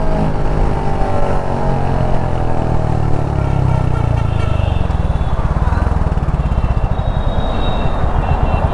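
A 2022 Royal Enfield Hunter 350 motorcycle engine revs loud and steady from close by as it overtakes, its throbbing exhaust note rising through the pass and continuing without a break.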